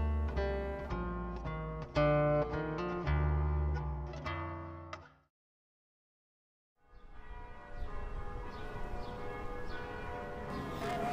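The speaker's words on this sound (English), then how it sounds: "The voice of the church bells kept ringing, for this was Holy Thursday." Church bells ring in a rich, repeated peal of overlapping strikes, then fall silent briefly before a softer, more distant ringing resumes.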